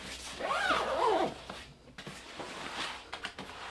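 A zipper closes a compartment on a Bellroy bag that holds a small personal medical pouch. One quick, close rasping pull comes first, followed by soft handling rustles and light clicks.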